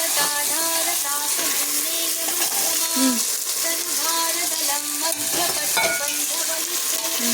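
Onions and carrots sauté in a pan for soya chunk biryani, giving a steady close sizzle with scraping stirs throughout and a faint voice in the background.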